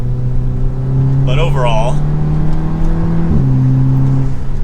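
A 2024 Audi RS3 (8Y) with its dual-clutch gearbox in dynamic manual mode gives a steady, close engine drone. The pitch drops once with a quick gear change near the end, while a person talks over it.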